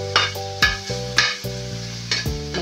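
Pork fat fries in oil while a spoon scrapes and stirs, giving several sharp clattering strokes over a close, steady sizzle, with no talk.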